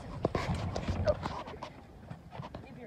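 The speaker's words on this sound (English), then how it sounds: "Hey, horses! Hi, horsies!" Hooves clop and shuffle nearby as horses move about, with a person talking and greeting them over the top.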